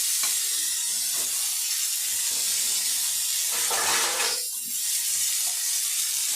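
Gime greens fry under a lid over a low gas flame, a steady close hiss of sizzling and steam filling the whole stretch with one brief dip in the middle, no talking.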